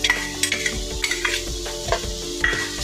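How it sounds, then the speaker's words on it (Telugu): Masala frying in oil for a Telugu-style fish curry, with a spoon clinking and scraping against the pot in quick repeated strokes over a continuous sizzle, close and clear, without talk. "బాగా కలపాలి."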